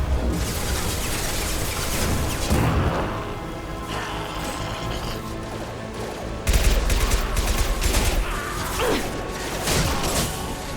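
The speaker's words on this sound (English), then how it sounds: "Taking heavy fire!" Heavy gunfire in Mass Effect 2 rattles as a dense, continuous barrage of shots and impacts mixed with crashes and mechanical clatter, loud and close throughout a firefight.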